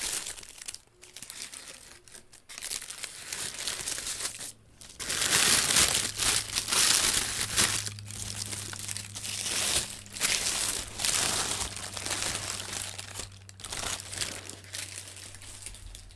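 Black paper wrapping around a tea package crinkles and crumples in steady handling bursts, loudest midway, with a faint low hum running underneath and no talk.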